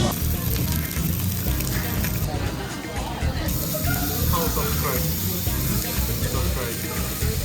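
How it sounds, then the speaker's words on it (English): Pork sizzles on a Korean BBQ grill in a Busan restaurant, a steady, dense hiss and crackle heard up close, with voices murmuring in the background throughout. "once this pork starts sizzling, these incredible smells also fill this room"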